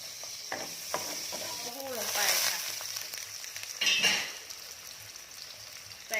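Carrots stir-fried in a pan with soft tofu give a continuous frying hiss with scraping stirs throughout. A faint voice is briefly heard midway.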